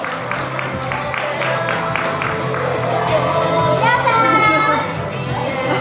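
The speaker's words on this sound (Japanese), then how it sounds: "大きな拍手でお迎えください" Audience applause and crowd noise greet Shimanekko, the mascot, at the fifth-anniversary event of the Oshimenawa Sosakukan hall, a steady clapping wash with children's voices mixed in throughout.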